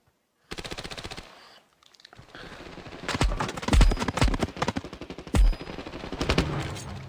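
Automatic gunfire in the mobile shooter Standoff 2: a rapid burst of shots, a short pause, then heavier bursts and single loud shots, close and punchy with no talk over them.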